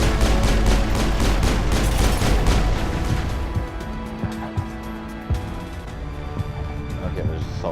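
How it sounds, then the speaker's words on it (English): Rapid automatic assault-gun fire from a Mass Effect firefight, dense bursts loud and close at first, then thinning to scattered distant shots and thumps, with a voice talking over part of it. "there's assault guns now"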